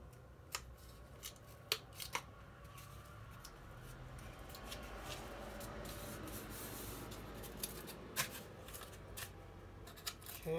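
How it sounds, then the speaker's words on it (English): Scissors trimming rough edges off a paper project for a video game racing craft, with a series of sharp, irregular snips over a faint papery rustle, close and quiet, and no talking. "I'm going to trim some of those rough edges off so it looks nice and neat."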